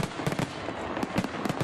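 Fireworks at a July 4th celebration pop and crackle in a rapid string of sharp bursts, several blasts landing close together over a continuous rumble.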